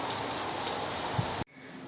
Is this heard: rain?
yes